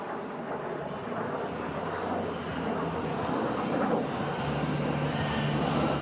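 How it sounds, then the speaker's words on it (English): A KC-135 jet tanker flies past at an air show, a steady, loud broadband engine roar holding for about six seconds and swelling slightly toward the end, with no talk over it. "KC-135 getting ready to refuel, perhaps over the North Atlantic."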